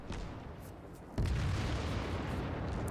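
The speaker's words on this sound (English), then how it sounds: "And that was the sound of the guns." A single deep, muffled boom of battleship guns firing in World of Warships lands partway through, followed by a steady low rumble that carries on to the end.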